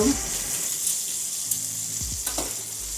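Chicken livers frying in a pan, a loud, close, continuous sizzle with scattered pops and a couple of brief utensil scrapes near the end, no talking.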